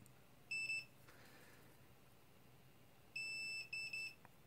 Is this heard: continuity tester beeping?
yes